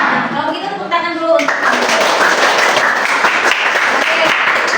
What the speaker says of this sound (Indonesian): kalau begitu tepuk tangan dulu